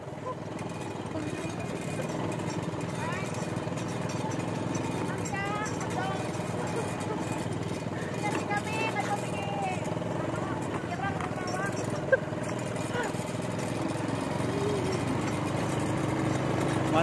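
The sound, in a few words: four-wheeled motorbike (quad) engine running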